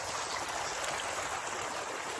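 Floodwater rushes out through a lake spillway after heavy rain, a dense, continuous roar of water that stays steady and even throughout, with no voices.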